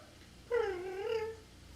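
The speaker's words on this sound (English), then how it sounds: "My cat, Miso. Like the soup." A pet cat gives a single drawn-out, wavering meow lasting under a second, close and clear in an otherwise quiet room.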